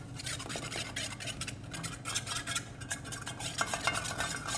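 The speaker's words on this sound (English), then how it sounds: "And then you can stir that up a little bit." A honey dressing being stirred in a bowl, a quick continuous run of close scraping and clinking strokes with light utensil taps, no voices.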